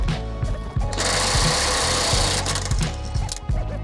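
A cordless impact wrench rated around 275 foot-pounds of torque, fitted with a 19mm socket for lug nuts, hammers loudly in rapid bursts, one long run in the middle flanked by shorter blasts, close up.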